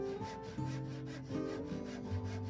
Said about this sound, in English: You guessed it, a handsaw.